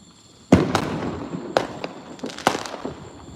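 July 4th fireworks burst in three loud, close booms spaced about a second apart, each followed by crackling and a fading rumble.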